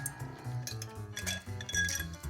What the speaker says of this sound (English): At this point, you're going to go and grab your ice.